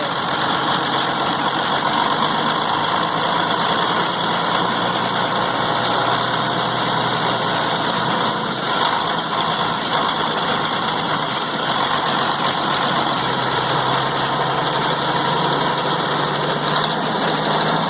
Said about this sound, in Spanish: Podemos ver los parámetros que se llegan a medir en bajas RPM.